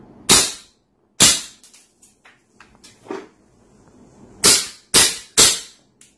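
A WE Luger P08 gas blowback airsoft pistol fires sharp, loud cracks with snapping slide action, first two single shots, then a quick string of three, with light mechanical clicks in between.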